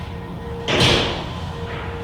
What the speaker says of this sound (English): If that's a lot of doors opening and closing